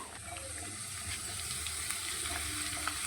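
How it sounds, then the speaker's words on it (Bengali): Steady close-up sizzling of potatoes frying with ground spices in a pan, with faint stirring scrapes and no voices. "একসাথে আরেকটু ভাজা হয়ে যাবে আলুগুলো মশলা কষাতে কষাতে"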